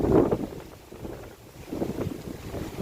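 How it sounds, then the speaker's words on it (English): Strong wind buffets the microphone in rough, gusting bursts, rising and falling with no speech. "Guys, look at the wind. It is so windy still."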